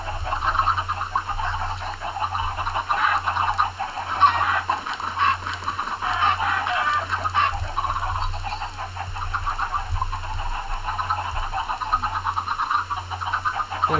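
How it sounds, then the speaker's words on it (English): Chickens cluck and squawk in the Pixelmon Reborn game, a busy, continuous chatter of many birds over a steady low hum, moderately loud throughout. "There's so many chickens in here."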